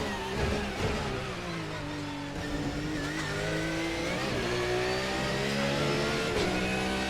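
A GT3 race car engine in the Assetto Corsa racing game at Monza drops through the gears into second for a chicane, its loud harmonic whine sliding down with each shift and then rising again as it revs out, no voices.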